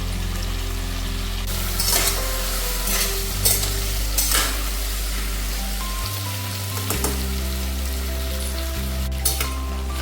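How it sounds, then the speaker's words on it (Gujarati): Potatoes sauté in hot oil seasoned with asafoetida for a Kathiyawadi stuffed potato curry, giving a steady close sizzle with occasional scraping stirs and a low hum underneath. No one speaks. "આપણે પાંચ મિનિટ માટે તેલમાં આપણે બટેટા સાતળી લીધા છે"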